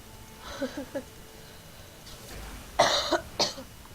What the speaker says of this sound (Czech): Mám kašel, menší.